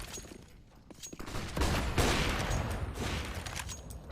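Gunfire rattles in a Counter-Strike: Global Offensive pro league match, with a burst of rapid shots rising after a quieter start and continuing as dense, fairly loud fire.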